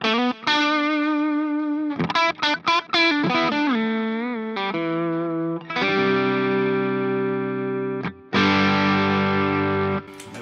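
An electric guitar played through a TC Electronic Dark Matter distortion pedal, set with gain at 9, rings out in loud, saturated chords and quick single-note bursts, with brief gaps between phrases and sustained crunchy chords at the end.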